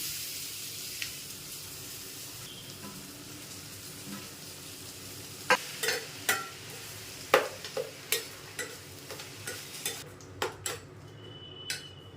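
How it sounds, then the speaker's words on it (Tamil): Grated raw mango stirred into a frying pan for mango rice, a soft background sizzle joined midway by a series of sharp metallic spatula scrapes and taps against the pan, close and fairly quiet. "நெக்ஸ்ட்டு நம்ம சீவி வச்சுருக்கிற மாங்காயை அப்படியே அள்ளி கொட்டிடலாம் எல்லாத்தையும்."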